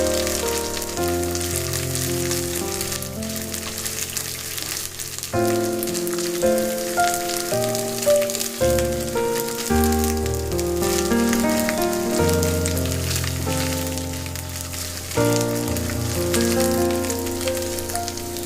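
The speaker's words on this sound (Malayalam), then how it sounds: "ആദ്യം നമുക്ക് തേങ്ങാക്കൊത്ത് ജസ്റ്റ് ഒന്ന് മൂപ്പിക്കാം." Coconut pieces fry in hot coconut oil, giving a continuous crackling sizzle, with background music playing throughout.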